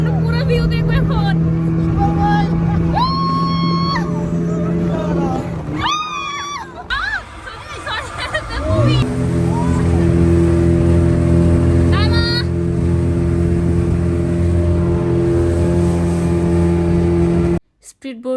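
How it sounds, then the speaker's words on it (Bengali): A speedboat engine runs with a steady loud drone and a brief dip in the middle, while people chatter and call out over it and it cuts off abruptly at the end. "আমরা এখন স্পিড বোটে উঠেছি।"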